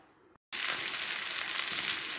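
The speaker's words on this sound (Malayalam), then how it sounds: "ഒരു പാനിൽ എണ്ണ ഒഴിച്ചതിന് ശേഷം കടുകും വറ്റൽമുളകും ഇട്ട് വറുത്തെടുക്കാം" Mustard seeds and dried red chillies hit hot oil in a pan, and after a brief silent gap a loud, dense, even sizzle erupts and holds steady at close range.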